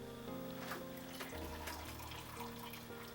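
Very long braided hair dipped into a long container of hot water, with soft sloshing and dripping water sounds, faint and close, over a low steady background hum.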